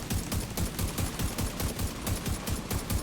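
Rapid automatic fire from a Harmony rifle in The Division 2, a fast unbroken rhythm of close, loud shots repeating for about three seconds with no talk.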